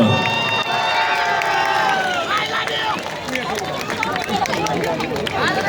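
At a charity concert in Dharan, a crowd cheers and shouts for a singer, loud and busy, with excited voices and whistles rising over a general roar and chatter.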